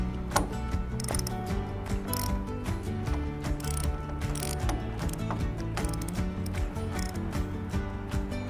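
Band clamps being bolted onto the latch of a Skyraider aircraft tail hook, with steady close ratcheting clicks repeating throughout and sharper metallic ticks mixed in.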